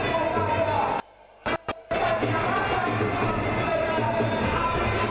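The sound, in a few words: football crowd shouting with instruments playing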